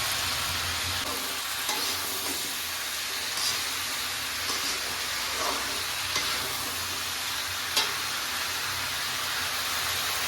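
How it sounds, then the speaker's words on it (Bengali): Moong dal with a little turmeric fries in a hot pan with a dense, steady sizzle and hiss. Light scraping stirs repeat close by, and no one is talking. "হালকা একটু হলুদ দিয়ে দিচ্ছি, সাথে অ্যাড করে নিচ্ছি মুগ ডাল।"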